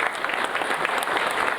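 An audience at the ribbon cutting for the Chisago Lakes WildCat Community Center claps in a steady burst of applause that fills the whole brief moment.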